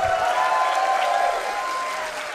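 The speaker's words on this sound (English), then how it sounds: "But big round of applause for Charon!" An audience at a Super Smash Bros. quarter-final match between Marth and Fox breaks into steady applause, a dense wash of clapping that fades slightly over a couple of seconds.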